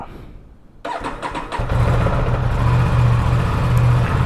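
Motorcycle engine cranking and catching from a cold start, then settling into a loud, steady idle as it begins warming up, heard close with no talking.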